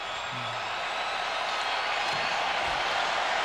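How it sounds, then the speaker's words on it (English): A large crowd at an NHL hockey game between the St. Louis Blues and Buffalo Sabres roars in a broad, steady wash that swells slightly, with faint clapping mixed in. "And some loud crowd noise."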